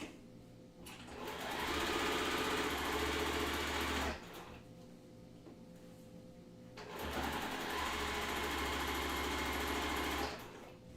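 A sewing machine stitching quilt block pieces runs in two steady bursts of a few seconds each, a fast, even, whirring hum close by, separated by a short quiet pause.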